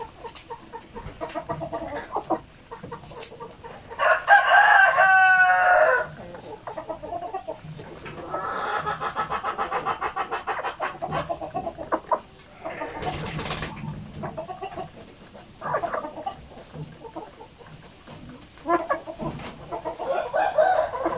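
Egg-laying hens in a backyard flock, a rooster crowing loudly near the start amid scattered clucks and cackles, with occasional quieter voice nearby.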